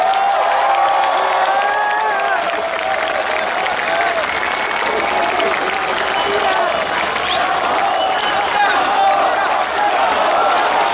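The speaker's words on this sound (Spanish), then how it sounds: "Un fuerte aplauso, por favor." Concert audience applauding and cheering loudly and continuously at a live show in Santiago, Chile, a dense sustained wash of clapping with whoops throughout.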